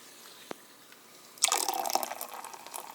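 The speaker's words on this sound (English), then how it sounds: "carbonated water, and you pour it into this mug." Carbonated water pours into a mug, starting as a soft hiss and trickle, with a single drip before it. The fizzing, crackling pour is close and fairly quiet.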